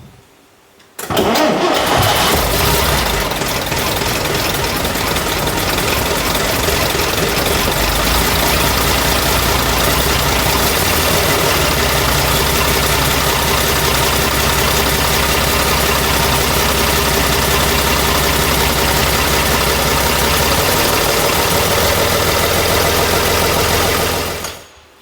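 An old London bus diesel engine with pump timing out cranks briefly, catches and settles into a loud, rough, clattering idle that runs steadily until it cuts off near the end.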